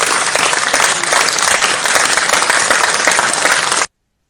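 A canned soundboard applause effect plays during a crypto talk, giving dense, loud, even clapping and cheering for about four seconds before it cuts off abruptly into silence.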